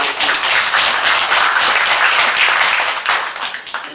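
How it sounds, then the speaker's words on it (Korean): A church congregation clapping during a Sunday service to thank a choir leader: brisk, fairly loud applause from a gathered crowd, steady for three seconds before tapering into a few looser claps. "우리가 박수 한번 하겠습니다."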